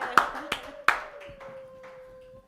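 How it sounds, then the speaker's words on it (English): Three or four sharp, close finger-snap-like claps, the beatnik style, ring out at a live music show, followed by a sustained tone fading in the background. "Let's give her the beatnik clap."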